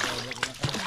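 An undersized fish is tossed back into the water with a short splash, a couple of quick wet bursts heard close by under talking.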